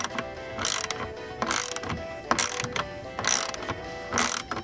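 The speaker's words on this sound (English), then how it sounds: "I'm going to have to get a double-handed crank on this." A double-handed crank turned on a bread box water heater mechanism, giving repeated bursts of ratcheting clicks and grinding gear noise in uneven pulls, close and moderately loud.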